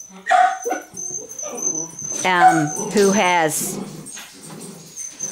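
A dog barks and whines in short bursts close by, mixed with a person speaking a few words in between.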